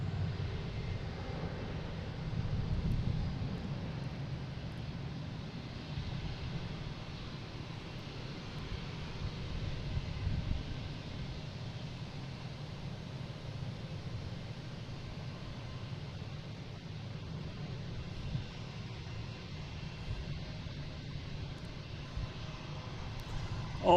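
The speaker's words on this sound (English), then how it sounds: "British Airways taking off on 15" British Airways jet taking off on runway 15 at Boston Logan for London Heathrow, a low, fairly distant engine rumble that swells early and then holds steady and subdued.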